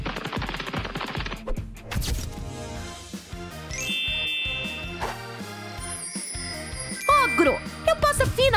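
Rapid bursts of gunfire in a live-action fairy transformation skit, layered with busy music and chiming effects, fairly loud throughout.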